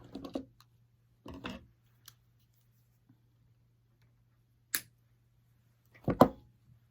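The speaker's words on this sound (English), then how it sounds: "So I'm just going to zip tie that one down." A plastic zip tie is cinched down on a mesh wreath base, giving a few short, close rasping bursts spread across a quiet stretch, with no talking.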